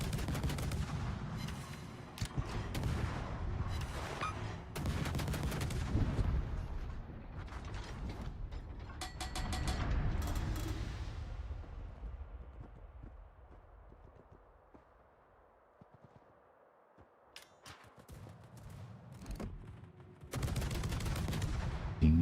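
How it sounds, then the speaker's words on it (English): Warship guns in World of Warships fire out of sync, heavy mechanical booms and clanking in uneven bursts, dropping to a quieter rumble midway before a final loud volley. "The singular gun firing out of sync"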